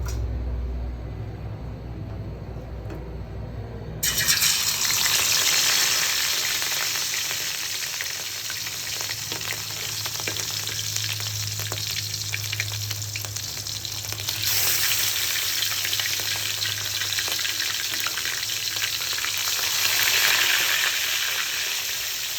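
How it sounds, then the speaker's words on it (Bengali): Rohu fish frying in hot oil in a home kitchen: after a few seconds of quiet, a loud, steady sizzle breaks out and crackles on without pause, close by, with no talk. "তেল গরম হয়ে গেছে, এবার মাছ ভেজে নিব।"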